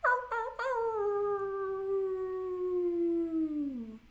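A person's voice imitates a wolf howl: a single long, sustained howl that slowly slides downward and fades, following a few short breathy onsets, close and alone.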